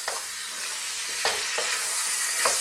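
Pork and capsicum pieces frying in a pan over medium heat, a continuous close sizzle broken by several short stirring scrapes, with no talking.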